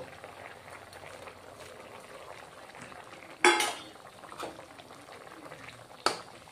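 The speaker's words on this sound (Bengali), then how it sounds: "আমার ফুটে এসেছে ঝোল।" Fish curry broth bubbles softly in a pot, a low continuous simmer, with a sharp metallic clank of a lid or utensil near the middle and another near the end.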